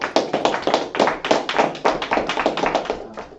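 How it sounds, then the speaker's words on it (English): An audience claps at a religious feast closing gathering in Atlanta, a dense run of sharp hand claps in an irregular rhythm lasting several seconds, close and fairly loud, with no voices over it. "All right, let's clap it up."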